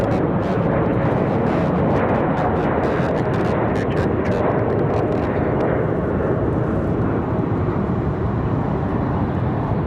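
A Republic Airways jet departs Raleigh-Durham International, its engines a loud, steady broadband roar that holds for the whole stretch, with a voice talking over it.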